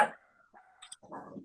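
A dog gives a few short, fairly quiet barks and yips, spaced out irregularly over a second or so, with an indoor feel.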